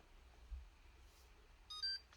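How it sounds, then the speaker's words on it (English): A single short electronic power-on beep from a Logitech Mevo Start camera chirps faintly against a quiet background, a brief tonal blip near the end. "Makes a little beep sound."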